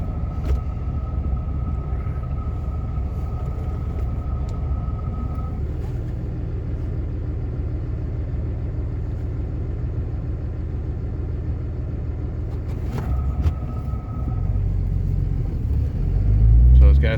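A 2006 Ram 2500 pickup with the 5.9L engine and six-speed manual drives along, a steady loud engine and road rumble rising and dipping as gears change, with a brief surge near the end.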